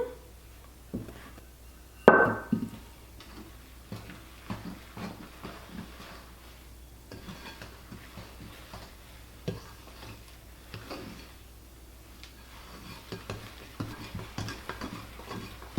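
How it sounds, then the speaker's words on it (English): Whole wheat dough made from fresh-milled flour, stiff and hard to mix, worked by hand in a bowl with soft, irregular stirring and scraping sounds close by and a sharp clatter near the start. "You want it to be pretty difficult to mix at this point."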